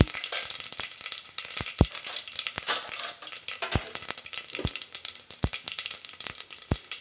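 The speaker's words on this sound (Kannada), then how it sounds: "ಎಣ್ಣೆ ಬಿಸಿ ಆಗಿದೆ. ಸಾಸಿವೆ ಹಾಕ್ಕೊಳ್ಳಿ, ಸ್ವಲ್ಪ ಜೀರಿಗೆ" Mustard seeds and cumin sizzling in about two spoons of hot oil, a steady frying hiss punctuated by sharp, irregular pops and crackles as the seeds burst, close up with no talking.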